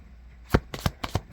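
A deck of cards shuffled during a rune reading in a few quick riffling bursts, close and crisp with short pauses between.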